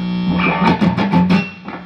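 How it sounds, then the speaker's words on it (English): Electric guitar played through a standard distortion pedal and an Ibanez Tube Screamer, loud and saturated, with a sustained buzzing tone and several strummed chord hits pulsing in rhythm before it fades out. "you kick your distortion on, and I've got some standard distortion pedal going on here"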